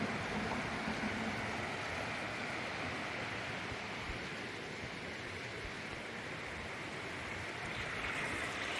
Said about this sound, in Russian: Как я люблю вот эти вот горные реки и звук воды.